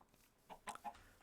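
A chicken in the Minecraft video game clucks in a few short, quiet bursts, with a brief pause between each call.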